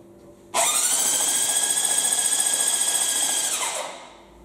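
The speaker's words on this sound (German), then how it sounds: "Der Motor dreht sich schon mal, das ist mal nicht schlecht." A flood-damaged Honda engine from the Ahr valley cranks over on its starter for about three seconds without firing: a loud, steady whirring whine with a fast rhythmic pulse that winds down as the starter stops.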